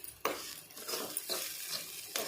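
Cabbage curry sizzling in a pan while being stirred, with several distinct scraping strokes of a spoon every half second or so over a low, close frying hiss.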